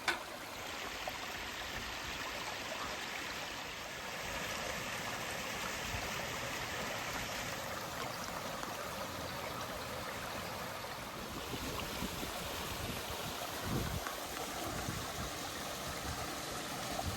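A beck in Mickleden valley flows steadily, a continuous broad rush of water that stays even and close throughout with no voices.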